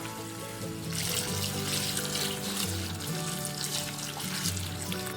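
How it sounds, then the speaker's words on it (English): Tap water runs steadily into a container of cereal grains being prepared for wet mixed cereal at home, a continuous close hiss and splash with no talking. "I'll be running water into this as well."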